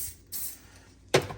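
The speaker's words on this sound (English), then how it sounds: "just a quick spray like you see here into the mold" Mold release is sprayed lightly into a beeswax candle mold as a brief soft hiss, followed by a sharp little knock of the can or mold a moment later.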